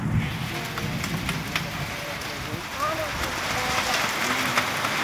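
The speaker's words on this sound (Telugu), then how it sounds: "పెద్ద వర్షం పడుతుందండి" Heavy rain pours steadily with a dense, even hiss, and there is occasional faint talk and distant background sounds.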